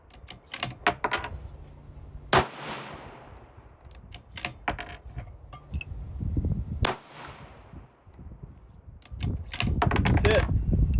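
Two sharp, loud 7mm rifle shots ring out several seconds apart on an outdoor range, each with a decaying echo, amid clicks and handling noise from the shooter.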